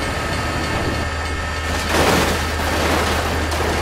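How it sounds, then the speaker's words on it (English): A train in the BeamNG.Drive driving game, a loud continuous rumbling roar with a heavy low drone that swells into a louder rushing pass midway, close and sustained. "Oh my God, train!"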